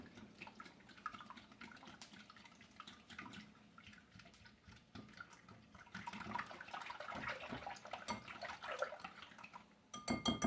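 Milk and vanilla being mixed in a bowl, with soft continuous sloshing and light clinks of a utensil against the bowl, close but faint, growing busier toward the end.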